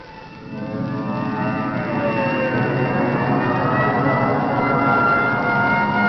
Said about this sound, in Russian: Опять сирены.